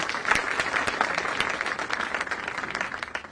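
An audience at a public programme in Jaipur bursts into steady applause after a speech, dense clapping from many hands filling the hall at a consistent level throughout.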